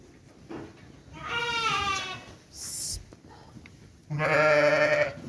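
Sheep bleating in a Turkish farm setting, two drawn-out harmonic bleats with a brief high hiss between, close and fairly loud, with faint background noise.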